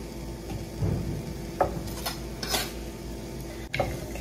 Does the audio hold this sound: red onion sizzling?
yes